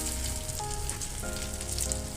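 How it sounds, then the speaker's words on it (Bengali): Poppy seed fritters fry in hot oil after being flipped, a constant close sizzle and crackle with some faint tonal hum underneath, no talking. "এক সাইড করে ভাজা হয়ে গেছে তো এটা উল্টানো হচ্ছে অপার সাইডটা ভাজা হবে এবার"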